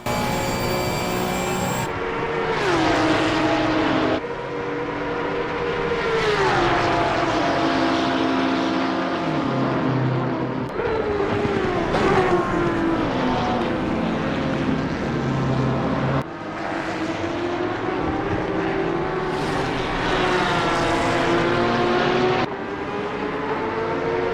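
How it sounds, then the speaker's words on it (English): A Porsche Cup race car battles a GT3 at Spa along the Kemmel Straight, the loud engine wailing upward through repeated gear changes with brief drops between shifts, heard close and unbroken for the whole stretch. "And we continue until the GT3 overtakes Gabriele's Porsche, again on the Kemmel Straight."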